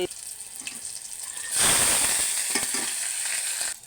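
A quiet kitchen scene that suddenly bursts into a loud, crackling sizzle as spices, dried chillies, curry leaves and garlic hit hot oil for tempering, with a few clinks as it keeps spitting.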